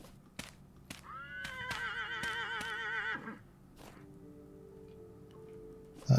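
A donkey in the Vintage Story video game lets out a loud, horse-like whinny lasting about two seconds, with a wavering, descending pitch. Sharp ticking clicks come before it, and a quieter tonal game sound follows.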